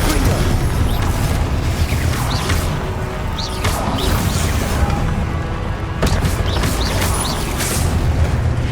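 Confringo explosion spell in Hogwarts Legacy, heavy booming blasts and crashing impacts amid constant loud combat noise, with sharp whooshes and bursts recurring across the stretch.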